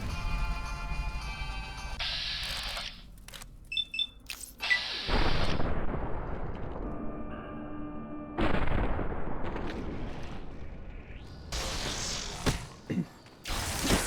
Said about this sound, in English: Fucking flare gun!